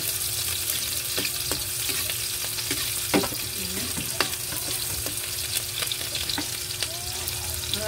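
Onions stirred in a hot pan while cooking pork liver, a steady frying sizzle with scattered clicks and knocks of a utensil against the pan, close and continuous without speech.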